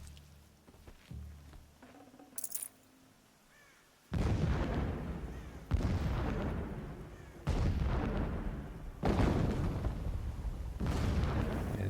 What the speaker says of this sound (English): the little explosions are there to cover anytime you get spotted